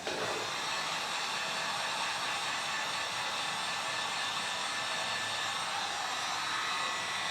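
A heat gun on low setting blows steadily while warming a badge on a Mercedes W211 for removal, a constant close whooshing hiss with no breaks.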